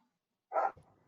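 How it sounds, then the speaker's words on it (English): A dog gives a single short bark, faint and slightly distant, in an otherwise quiet room. "Sorry about the dog."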